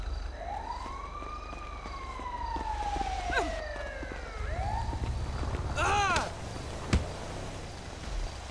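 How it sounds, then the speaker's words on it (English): A police siren in a video game wails in rising and falling sweeps, fairly faint and distant, with a few sharp clanks and bursts of noise breaking in. "I hear sirens."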